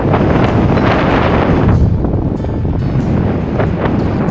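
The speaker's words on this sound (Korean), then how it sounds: "신기하게 여기는 아까 안내판 말대로 바람이 세게 부네" Strong wind buffets the microphone on an open, empty coastal road in Newfoundland, Canada, during a long bicycle crossing; a loud, steady roaring gust rumbles without a break, with no speech.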